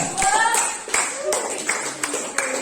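A few scattered handclaps ring out in an Islamic studies classroom during a lesson on zakat, sharp and irregular, mixed with students' voices talking.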